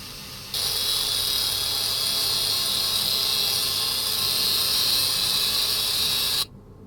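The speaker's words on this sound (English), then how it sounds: "So this one we get to use the grinder." Grinder cleaning an original Toyota Ground Courier brake disc in the Offroad Mechanic Simulator game: a steady, loud, high whining hiss that starts abruptly, holds evenly for about six seconds, then cuts off.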